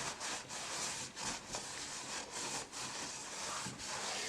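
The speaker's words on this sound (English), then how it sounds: "I clean up the grease in the race here" Rhythmic rubbing strokes of a rag wiping grease from the bearing race of a Hy-Gain antenna rotor, close and fairly quiet, repeating in steady back-and-forth passes with no talk.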